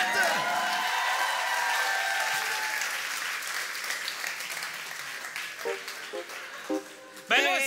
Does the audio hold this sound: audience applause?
yes